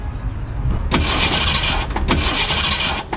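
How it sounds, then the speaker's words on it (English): A 1965 Ford Mustang cranking on its starter, loud rhythmic whirring pulses that repeat several times without the engine catching, heard up close with no talk. "The cranking is basically the starter engaging in the,"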